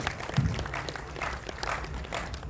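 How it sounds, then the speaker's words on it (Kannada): Audience clapping at a Kannada film trailer launch event, a steady wash of many hands applauding at moderate level across the whole stretch with no voices over it. "ಚಪ್ಪಾಳೆ ಹೊಡೆಯೋದ್ರ ಮುಖಾಂತರ ಉತ್ಸಾಹ ಕೊಡಬೇಕು ದಯವಿಟ್ಟು ಪ್ರೇಕ್ಷಕರು"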